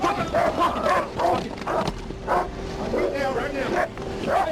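Police dog barking and yipping in bursts during a struggle with a suspect at a car, mixed with loud shouting from officers.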